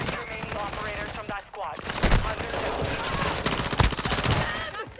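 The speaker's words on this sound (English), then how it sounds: "He just was shooting me." In Call of Duty: Modern Warfare II, rapid automatic gunfire rattles in quick bursts during a multiplayer match. A player talks over and between the shots.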